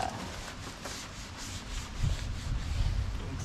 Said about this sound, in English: So I'm gonna wipe up right here